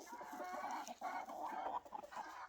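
A flock of chickens clucks softly and continuously nearby, with overlapping murmuring calls and a few sharper clucks, faint overall.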